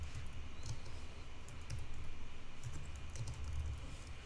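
Typing on a computer keyboard: a quiet, irregular patter of key clicks goes on steadily at close range, with no talk.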